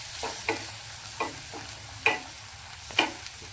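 A spice mixture fries in a pan over a low flame for rajma masala, a quiet steady sizzle broken by four or five distinct scrapes and taps of a spoon stirring, close and without talk.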